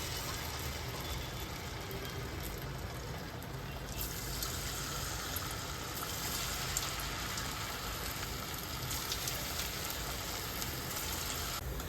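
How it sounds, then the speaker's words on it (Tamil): Cabbage manchurian fritters deep-fry in hot oil with a steady, dense sizzle and crackle that holds throughout, close and continuous with no talking. "இப்போ நம்ம இதை வந்து எண்ணெயில் போட்டு பொரிச்சு எடுக்கலாம்."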